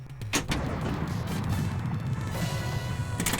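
Cannon shot on The Lost World pinball table: a sharp blast opens the clip, followed by a dense, loud rattle of mechanical clatter and a short burst near the end.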